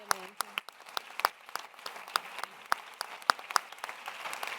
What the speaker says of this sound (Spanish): Yo les pido un aplauso a toda esta gente.